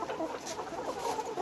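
Layer hens clucking steadily inside cages, a dense continuous chorus of close, overlapping clucks with no pauses.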